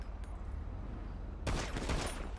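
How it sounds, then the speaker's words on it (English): A burst of rapid gunfire from a video game starts halfway through, with quick close shots in a dense run after a quieter stretch. "You see how fast I'm shooting?"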